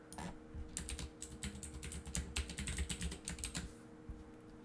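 Rapid keystrokes on a computer keyboard as a username is entered, a quick irregular run of clicks, close and fairly quiet, with no talking.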